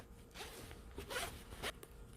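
A zipper head (slider) being fitted onto a zipper, heard as a few quiet, close zipping scrapes and clicks with short pauses between them and no talk.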